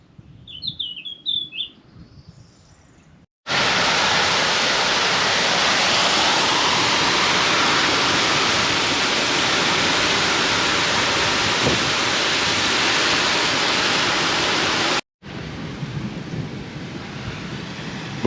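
A loud, dense roar of heavy rain from a thunderstorm fills most of the scene, steady and close. A few bird chirps come before it, and a slightly softer stretch of rain follows.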